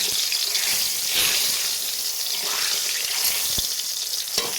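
Chopped garlic and dried red chillies hit hot oil for a tempering, giving a steady, fairly loud crackling sizzle that runs without a break, with a few sharper pops near the end.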